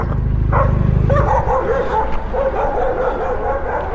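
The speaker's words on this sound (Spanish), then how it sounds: "Pero sigue ladrando." A dog barks and yips several times at close range, the sharp barks breaking over a steady low rumble of an engine in the background.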